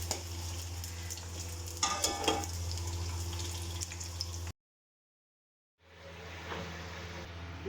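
Large onions sizzling in hot oil with beef in a pot for a beef biryani, a steady close frying hiss with stirring scrapes, briefly cutting to silence before the sizzle resumes.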